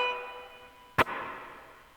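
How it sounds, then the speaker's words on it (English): Guitar chord from A Mighty Fortress Is Our God fading slowly in a gentle reverb wash, its tail shimmering alone before a single sharp click near the middle. "Reverb sounds like this."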